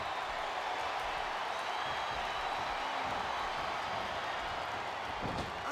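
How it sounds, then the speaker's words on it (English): Steady crowd roar in the wrestling video game WWE Smackdown vs Raw 2007, a dense continuous wash of cheering at an even level with no individual voices standing out. "I love hearing the crowd come alive"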